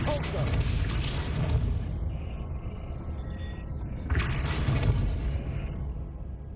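A Depulso spell cast in the video game Hogwarts Legacy, giving two heavy, booming blasts with a rumbling tail a few seconds apart. A steady low game soundscape continues underneath.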